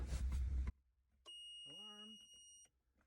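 A sewage ejection or sump pump power failure alarm: after a brief burst of noise and a pause, a loud, piercing electronic tone sounds steadily for over a second with a warbling undertone, then stops abruptly.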